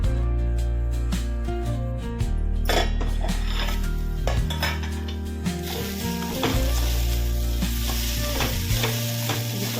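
Ponnaganti leaves frying in a pan are stirred with a utensil, repeated metallic scrapes and clinks over a steady sizzle, close and fairly loud, no talk.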